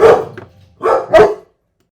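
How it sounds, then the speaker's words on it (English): A Great Pyrenees dog barks three times in a loud, close burst: a strong opening bark, a short pause, then two quick deep barks in a row. No voices are heard. "That's her job, to bark. She barks at anything that sounds suspicious."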